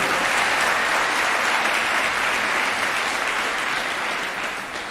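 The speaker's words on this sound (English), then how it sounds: "Let's give Lisa and her team another round of applause." Sustained, dense applause from a large audience at an undergraduate research conference at Cal State Fullerton fills the space evenly and slowly tapers off toward the end.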